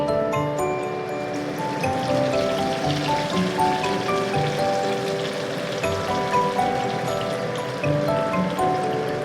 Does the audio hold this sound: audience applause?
no